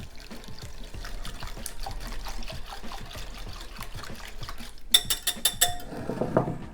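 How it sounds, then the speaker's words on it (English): A whisk beats a cornstarch sauce mixture in a bowl for honey garlic chicken, giving quick rhythmic clinks and scrapes, then a brief burst of sharper clattering near the end. "I'm just going to whisk all that together"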